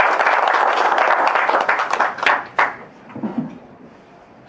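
Audience applause at the founding general assembly of the Seoul Maritime Arbitration Association in the Korea Shipowners' Association main hall, greeting the Korean Bar Association president; dense clapping fills the room, then thins into scattered claps and fades.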